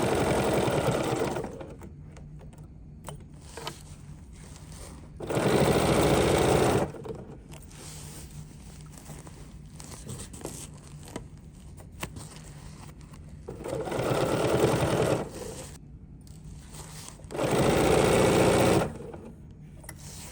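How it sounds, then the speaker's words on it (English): A sewing machine stitches a quarter-inch seam on a circus bag with a quarter-inch foot, running in three steady whirring bursts of a couple of seconds each, separated by quiet pauses, close and clear. "we're going to stitch around this with a 1/4 of an inch seam allowance with our 1/4 inch foot"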